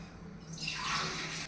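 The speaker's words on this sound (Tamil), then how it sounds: "தண்ணி ஊற்றிக்கலாம்" Water is poured into banana bajji batter, a short splashing stream that starts after a brief pause and continues steadily to the end.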